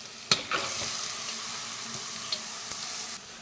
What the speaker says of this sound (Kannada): ಫ್ರೈ ಆಗಿದೆ ಇದಕ್ಕೆ ಈಗ ಸೊಪ್ಪನ್ನು ಹಾಕೋತಾ ಇದ್ದೀನಿ